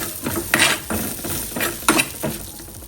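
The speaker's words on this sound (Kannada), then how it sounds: "ಈಗ ನಾನು ಇದಕ್ಕೆ ಸ್ವಲ್ಪ ಕರಿಬೇವು ಕೂಡ ಹಾಕ್ತಾ ಇದ್ದೇನೆ" Curry leaves crackle in hot oil in a pan of Mangalore-style chicken curry while a spoon mixes them, giving a constant sizzle broken by several louder scraping stirs against the pan.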